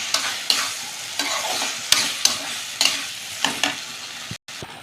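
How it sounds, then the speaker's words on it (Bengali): Meat and spices being sautéed with a spatula in a pan of oil, giving a steady sizzle broken by regular scraping stirs roughly every half second, close and fairly loud with no talking. "সব একসঙ্গে এখন সুন্দর করে কষাচ্ছি"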